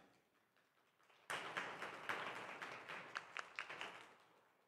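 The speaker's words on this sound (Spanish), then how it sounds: "Démosle un fuerte aplauso." Audience at an academic panel breaks into applause after a speaker introduction, a sudden burst of many hands clapping that rises sharply and then gradually thins out.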